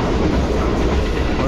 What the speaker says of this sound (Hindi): अब देखें बेगमा जी से निकलते ही ट्रेन ने जो है वो स्पीड पकड़ ली है और अब तकरीबन 80 की स्पीड में ट्रेन आगे बढ़ रही है।